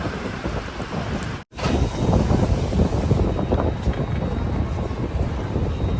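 Steady light rain patters amid gusty cool wind rumble during a train journey, a broad continuous wash of noise with a brief dropout near the start; no voices.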